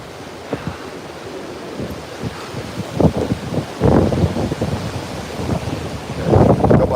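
Strong Hurricane Beryl winds roar through Freeport, Texas, battering the microphone in loud, surging gusts that build toward the end, with rushing, wave-like noise and no talking.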